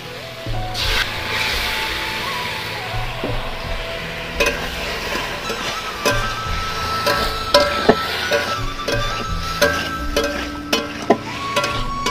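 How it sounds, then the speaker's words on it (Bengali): Bombay duck fish frying and being stirred in a hot pan of oil, a steady loud sizzle with scraping stir strokes and occasional clinks throughout, no voices. "এখন আমি বমলা মাছ দিয়ে দিচ্ছি।"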